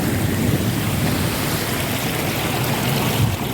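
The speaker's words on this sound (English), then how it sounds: "listen to that sea coming through" Sea waves wash steadily against the Wales coast, a continuous broadband rush with some wind on the microphone and no voices.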